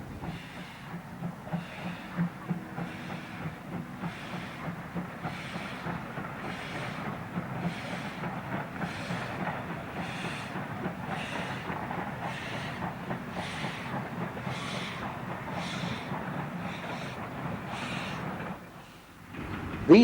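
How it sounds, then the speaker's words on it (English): Swedish Class B steam locomotive No. 101 hauls a Santa Special on the Nene Valley Railway in December 1984, its steady rhythmic exhaust beats chuffing over a continuous rumble and hiss before briefly fading near the end. "Here, the Swedish Class B number 101 works a Santa Special in December"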